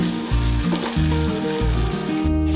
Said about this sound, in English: fry the ginger garlic paste, turmeric powder, salt